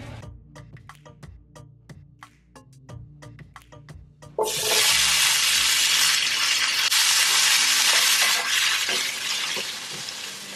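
A tablespoon of butter hits a hot frying pan and bursts into loud, steady sizzling that continues to the end, preceded by a few sharp knocks and clatters of utensils.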